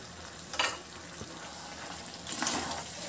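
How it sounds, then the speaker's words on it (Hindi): Chicken masala is stirred in a frying pan with chopped coriander and green chillies, giving a steady soft sizzle broken by two brief scraping bursts of the spoon against the pan. "अब मैं इसको अच्छे से मिला लूंगी।"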